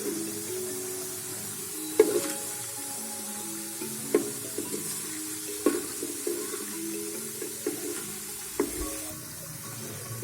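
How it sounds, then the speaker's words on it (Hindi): Whole garam masala spices fry lightly in hot oil with a steady sizzle, with sharp clinks and scrapes of stirring at intervals, close and alone. "बस हल्का हल्का हम इसको फ्राई करेंगे।"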